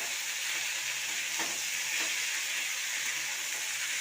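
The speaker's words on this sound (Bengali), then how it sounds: "এবার সবজিটাকে ভালো করে কষিয়ে নেব।" Vegetables with soaked chickpeas and spices frying in a pan, a soft continuous sizzle with a couple of brief stirring scrapes, fairly faint and without speech.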